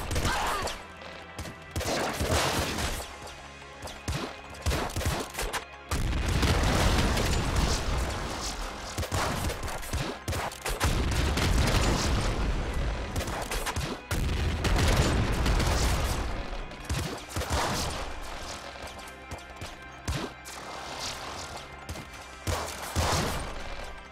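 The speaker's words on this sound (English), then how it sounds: "flamethrower and a double shotgun" A flamethrower and double shotgun in the Nuclear Throne video game, firing in heavy repeated blasts and booming bursts over a steady roaring wash, loud and continuous with brief dips between volleys.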